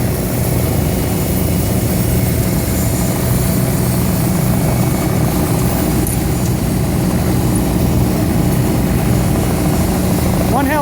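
A helicopter approaches a motorcycle crash scene on Lycoming Creek Road, heading to land in a church parking lot; a steady, loud, droning rotor and engine roar holds throughout without fading.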